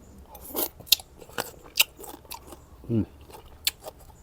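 Crunchy stir-fried kale with pork being chewed close up, giving repeated crisp bites and crackly crunches in an uneven rhythm, with a short voiced sound partway through.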